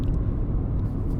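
Steady low car engine rumble fills the whole short stretch at a constant moderate level, with no voices over it.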